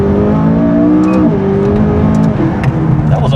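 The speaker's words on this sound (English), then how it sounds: "That was a pretty brutal second gear shift" A McLaren 570S supercar accelerates hard, its engine note climbing loud and close before a brutal second-gear shift drops the pitch, after which the engine pulls again.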